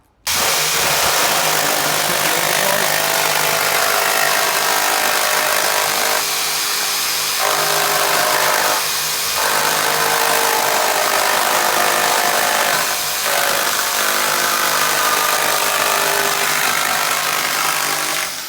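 A power tool cuts a fibreglass (GRP) splash screen for an Orkney 23 sea fishing boat, giving a loud, continuous, close-up whine that dips briefly a few times as the cut pauses.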